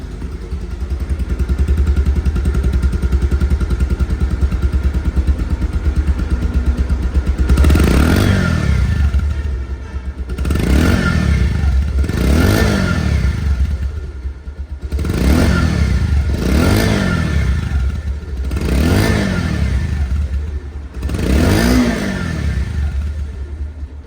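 A second-hand 2021 Bajaj Pulsar motorcycle, single disc model, idles with a steady low engine rumble, then is revved in a series of about six sharp throttle blips, each rising and falling back to idle, loud and close.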